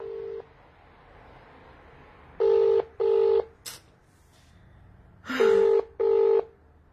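Touch-tone telephone dialing: two pairs of short, even keypad beeps separated by a pause, with a faint hiss and brief clicks between, fairly loud and close with no talk.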